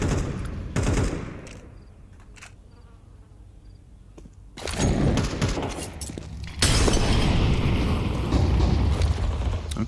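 Grenade detonating during a Counter-Strike match at a pro tournament, a sharp blast at the midpoint followed by a second loud burst and sustained gunfire and clatter, after a quieter stretch of distant game sounds.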